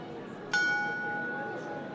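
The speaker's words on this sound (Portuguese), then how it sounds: "Essas badaladas marcam uma hora que já não existe mais, uma hora que se encerra." A bell strikes once, sharp and clear, then rings on in a long sustained hum that slowly fades over a steady background murmur.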